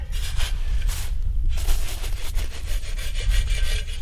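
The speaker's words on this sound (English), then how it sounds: "I'll just go ahead and scrape that and shake it on there." Scat and lure scraped onto a trap scent post set for bobcat and coyote outdoors, heard as loud close rasping, sawing-like strokes repeated in a quick uneven rhythm with no voices.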